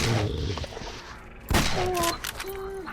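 A shotgun fires in the video game S.T.A.L.K.E.R. during a fight with dogs, a sharp loud blast breaking in midway, with tonal yelps and game ambience around it.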